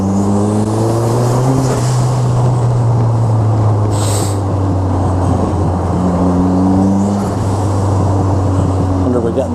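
A Mev Exocet Turbo kit car drives through busy Southport on a sunny day, its engine a steady close drone whose pitch rises and falls with gear changes, under constant road and wind roar.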